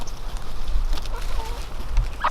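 Hens cluck softly in a backyard garden as they are handed a large radish, a few faint, scattered clucks over a low outdoor background.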